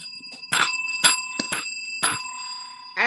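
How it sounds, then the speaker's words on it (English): A bell rings in several sharp, bright strikes at a steady pace, each one leaving a sustained metallic tone that keeps sounding underneath, close and clear with no talking. "ring that bell"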